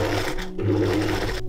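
A sewing machine runs steadily, stitching a cord loop onto the start of a fabric strip for a couture dress. The motor whirs loud and close, with a short break in the middle and the stitching stopping near the end.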